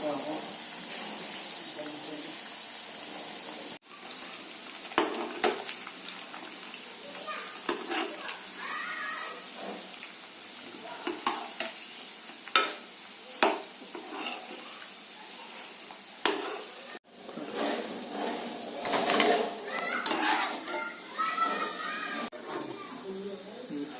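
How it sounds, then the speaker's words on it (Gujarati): Chickpea flour muthiya dumplings fry in hot ghee over a medium gas flame, giving a continuous sizzle with occasional stirring clatter while a person talks over it. "આ જે મુઠિયા બનાવ્યા છે એના ગરમ મૂકેલા ઘીમાં આપણે તળી લેવાના છે અને મીડિયમ ગેસના તાપે તળવાના છે"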